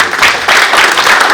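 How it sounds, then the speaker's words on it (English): Audience applause at a leadership awards ceremony, a steady, dense wash of many hands clapping close by, sustained and fairly loud throughout without a break. "A little louder applause."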